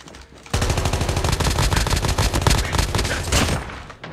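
Sustained automatic fire from an AK117 assault rifle in Call of Duty Mobile, a loud rapid stream of shots that starts abruptly after a brief quiet and runs for several seconds before cutting off.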